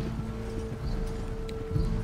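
A horse in Red Dead Redemption 2 clip-clops along at a steady pace, hoofbeats faint and fairly distant beneath a low ambient hum.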